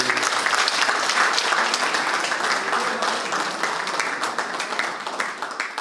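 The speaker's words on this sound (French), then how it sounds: "Encore des applaudissements, s'il vous plaît." An audience applauds continuously at an event, a dense, lively wash of clapping from many hands that holds steady throughout.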